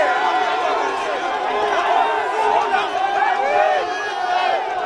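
A dense crowd erupts in joyful cheering and chatter at President Félix Tshisekedi's arrival in Lubumbashi, a continuous loud swell of many voices close by.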